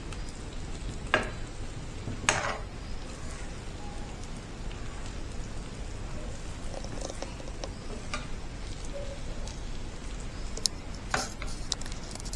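Noodle cake frying in a pan, a soft steady sizzle with scattered sharp pops and crackles, fairly quiet and with no talking.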